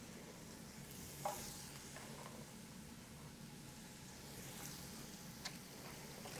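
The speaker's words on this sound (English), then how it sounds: "So now I'm going to toss my onions into this skillet." Onions frying in a skillet for a stir fry, a quiet steady sizzle with a couple of faint pops, soft and alone with no voices.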